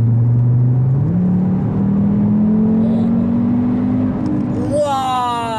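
An Audi RS pulls away hard in sport mode, its engine note climbing steadily and loudly through the revs from inside the cabin, ending with a quick shift and a sharp rise.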